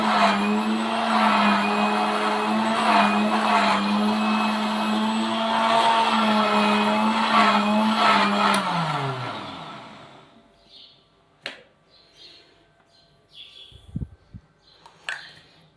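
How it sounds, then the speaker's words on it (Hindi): An electric machine churning cream into butter whirs loudly and steadily, its pitch sliding down before it stops, followed by a few faint clicks and knocks in near silence. "तो ये देखें नाज़रीन मशीन की आवाज़ चेंज होनी शुरू हो चुकी है।"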